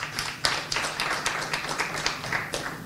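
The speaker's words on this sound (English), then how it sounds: "we didn't give Honorable Linda Auma Agnes a befitting round of applause." A small audience claps for an honorable guest at a coffee export and EU regulations event, a steady patter of hand claps with a few sharper slaps, moderately close and without talk.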